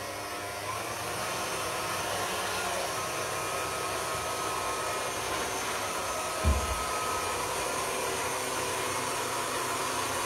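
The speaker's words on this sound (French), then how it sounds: "démarrer le batteur. Je vais y aller tout doucement au début pour faire légèrement mousser les blancs" An electric hand mixer whirs at low speed as it beats egg whites for a Savoie sponge cake, a steady, even motor drone lasting throughout with one brief bump midway; no talking.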